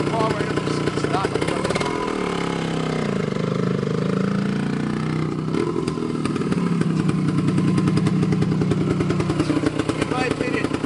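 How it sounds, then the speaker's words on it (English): 1974 Yamaha DT250 two-stroke enduro motorcycle engine running close by with a rapid, crackling two-stroke rattle that swells and eases in revs throughout, with a voice talking over it. "this is one of the all-time great two-stroke enduro engines. Yamaha DT250."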